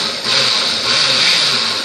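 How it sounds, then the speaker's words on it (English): A kitchen blender whirs through shredded carrots mixed into a zucchini mixture, a steady motor drone that dips briefly at the start and then runs on without talk. "And let's give this another blend."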